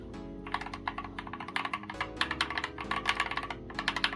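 Typing on a Ractous RTK61 mechanical keyboard with stock switches and lubed WASD and space bar, heard up close as a steady run of clacky keystrokes with audible spring ping, no voices.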